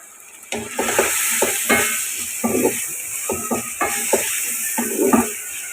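Chopped tomato tossed into a pan of frying garlic and onion for a Bengali okra and prawn dish, a steady close sizzle broken by repeated scraping stirs in an uneven rhythm.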